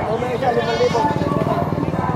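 Goats bleat at a Padre Garcia, Batangas livestock market, close and wavering, mixed with steady crowd noise and a voice talking over them.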